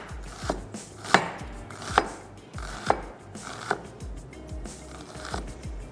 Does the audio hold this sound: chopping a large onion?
yes